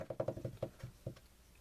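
A voice imitates the pitter-patter of rain falling on frogs in a children's story, with a quick run of about eight soft, clipped tapping syllables that slow and trail off, close and quiet.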